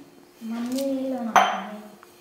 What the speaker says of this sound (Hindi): कैसन तू बर्तन माजत हो?